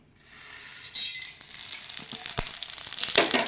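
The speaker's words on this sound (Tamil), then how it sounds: "எல்லாமே பாருங்கள் நல்லா பொரியுது" Whole spices crackling and sizzling in hot oil in a clay pot for a field bean gravy, a steady close frying hiss with sharp pops and a brief stirring scrape, no voices.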